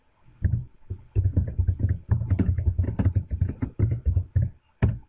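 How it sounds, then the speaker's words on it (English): Someone types a line of text on a computer keyboard, a close run of quick, uneven key clicks with brief pauses between bursts. "So we'll start by typing some text in here."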